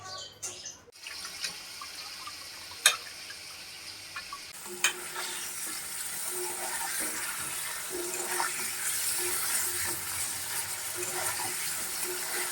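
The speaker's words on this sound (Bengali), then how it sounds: "পনির ভাজা হয়ে গেল।" Paneer fries in a pan, a steady close sizzle building after a few clinks of utensil on metal early on, with occasional stirring scrapes.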